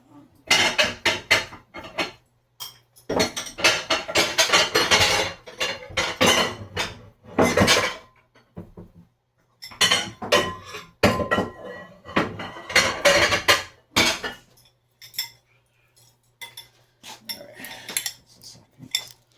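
A good-sized bowl and other dishes clatter and clink as they are handled, in irregular close bursts of knocks separated by short pauses, with no one talking.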